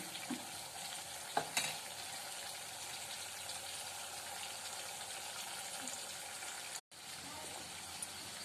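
Tamarind pulp fries in oil in a pan for tamarind rice, giving a steady, even sizzle throughout with a couple of brief clinks near the start and a momentary cut-out toward the end.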